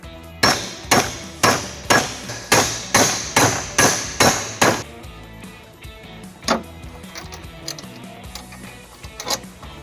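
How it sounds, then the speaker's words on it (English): Nine sharp, evenly spaced hammer blows on a metal tab ring out in quick succession, flattening it during a trailer hitch installation on a 2016 Toyota Camry, followed by a pause and a few scattered, lighter taps. "I'm going to use a hammer to flatten it out."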